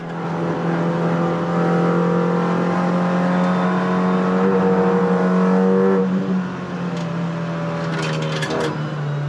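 Race car lapping the Nurburgring during a race, heard from inside as a loud, sustained engine drone that climbs in pitch, drops sharply on a gear change, then builds again.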